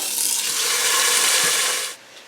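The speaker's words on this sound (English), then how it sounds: "I'm going to get them in there and brown them up" Seasoned steaks browning in a pressure cooker give a loud, steady sizzle that fills the air, then drops off abruptly to near quiet at the end.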